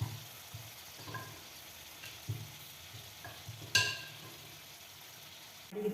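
Poori frying in hot oil, a quiet steady bubbling sizzle with a few soft scrapes and taps of a utensil against the pan, close up and otherwise calm.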